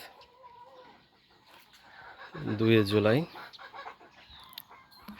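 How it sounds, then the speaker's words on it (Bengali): Egyptian Fayoumi hens on an open rooftop in the early morning give a few soft clucks, then one louder drawn-out call mid-way, while someone speaks briefly nearby. "এই সকালবেলা আমি আমার ফার্মি মুরগিগুলা এই খোলা ছাদের উপরে ছেড়ে দিব।"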